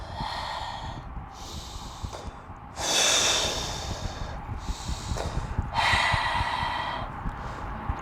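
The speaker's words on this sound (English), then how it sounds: "Breathing in." Deep breaths during an outdoor Ashtanga yoga session near the Golden Gate Bridge in San Francisco, two loud rushing inhalations about three seconds apart over steady low background noise.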